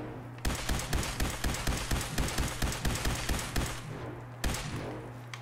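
Rapid bursts of gunfire in Fallout 4, a dense string of loud, close shots at an even rhythm for several seconds, a brief pause, then one more shot.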